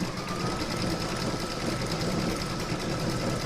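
Embroidery sewing machine stitching decorative stitching over the joins of an in-the-hoop lined crazy patch bag, a steady, fast, close mechanical whirring and rhythmic needle patter running evenly throughout.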